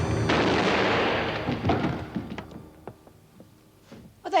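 Gunshots in a 1987 British TV drama, first a loud sustained blast, then several sharp separate shots that fade and echo, ending in a short burst of voice or noise.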